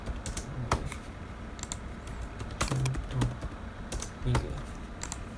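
Fingers tap keyboard shortcuts on a computer keyboard, giving scattered, crisp key clicks in short irregular clusters against a quiet room background.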